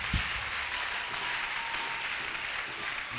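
A church congregation claps during a service, a steady wash of many hands that stays even and moderately loud for the whole stretch, with no voices standing out.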